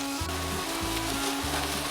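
Seasoned mushrooms in olive oil with garlic reducing in a pan, a loud continuous sizzle and bubbling close up, with a few low rhythmic thumps beneath it and no voices.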